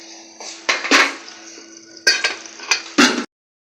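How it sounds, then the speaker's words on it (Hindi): Onions fry in a kadai for chicken karahi, giving a steady sizzle with several sharp spatula clanks and scrapes against the pan at uneven intervals, close and fairly loud, with no talking. "फ्रेंड्स, हमारा प्याज फ्राई हो रहा है।"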